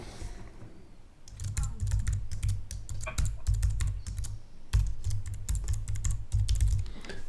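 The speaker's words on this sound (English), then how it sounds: "Typing and talking at the same time." Rapid typing on a computer keyboard during a live training session, a dense run of close, crisp key clicks with short pauses, heard on its own without talk.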